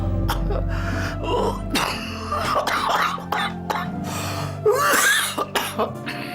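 Harsh, strained coughing and throat clearing from a person with a chronic cough repeat in bursts, with gasping breaths and groans between them, close and fairly loud.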